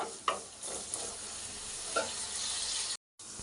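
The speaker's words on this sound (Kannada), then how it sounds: "ಫ್ರೈ ಆಗಲಿ." Marinated chicken pieces for butter chicken fry in a pan, hissing and sizzling steadily up close while a spoon stirs and scrapes with a few soft knocks, no voices, cutting out briefly near the end.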